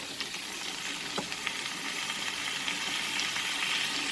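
Tomatoes and potatoes sauté in a pan for a Sem Aloo Matar sabji with flat beans, giving a steady close sizzle with light scraping stirs and occasional faint clicks, no voices.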